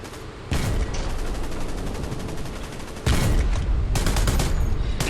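Tank cannon and machine gun fire in the Hell Let Loose video game: heavy, continuous automatic bursts with two louder booming cannon blasts, dense and close throughout.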